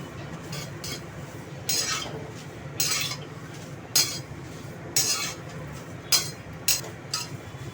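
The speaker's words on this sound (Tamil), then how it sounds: "எண்ணெய் விடாமல் வறுக்கிறேன்" Idli podi ingredients dry-roast in a pan without oil, a spoon scraping and clinking against the metal in short, regular strokes over a quiet background.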